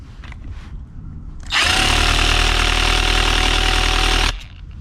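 A nitro RC truck's small engine bursts into a loud, high-revving buzzing roar that runs steadily for about three seconds, then cuts off abruptly.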